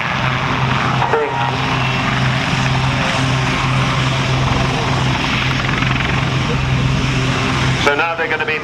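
A Navy Lynx helicopter performs at an air show, its loud, steady rotor and engine roar filling the air as it hovers close to the ground, with a brief change in tone near the end.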